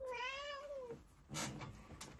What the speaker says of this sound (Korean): 저희 집 고양이가 오네요.